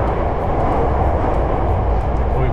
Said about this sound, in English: Starts off with the train ride